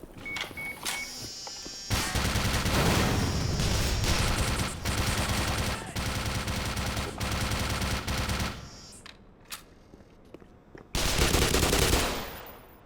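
Sustained automatic turret fire in the game Black Mesa, loud and close. Long unbroken bursts are separated by short pauses, then a final burst comes near the end.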